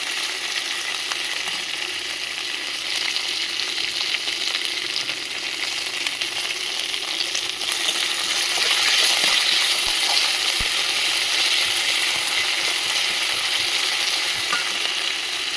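Mint leaves with curry leaves frying in a pan for mint chutney, a continuous loud sizzle and crackle that swells slightly partway through, with occasional stirring clinks.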